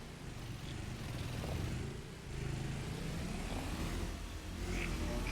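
Dirt bike engine in a video game, a steady droning rev that holds at a constant level throughout, with no talk over it.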